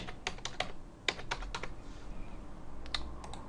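Quick, uneven bursts of keystrokes on a computer keyboard as a username and password are entered, close and fairly quiet, with short pauses between clusters and no talking.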